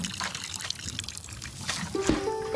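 In the Botany Manor video game, a planted seed in a pot is watered, giving a soft trickle and splash of liquid with a brief tonal chime near the end.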